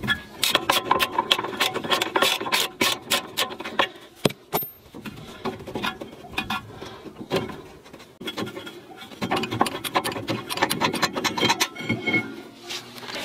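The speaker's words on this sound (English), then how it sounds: "So I'm gonna use a spanner like this, a ratchet, and I'm gonna remove it." A ratchet loosening 19 mm brake caliper bolts on a Mercedes-Benz W124's front brake, with bursts of rapid clicking and metallic rattling separated by short pauses, close up and fairly loud.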